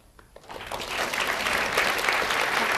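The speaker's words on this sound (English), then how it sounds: "All right, you're clapping" A television studio audience breaks into applause that swells from a few claps into a full, dense, steady roar of clapping, loud and close, with no talking over it.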